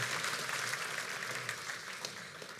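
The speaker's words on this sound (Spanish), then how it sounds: "Dele un aplauso al Señor" Congregation at a church sermon applauding, a steady dense wash of many hands clapping at moderate distance, sustained evenly throughout.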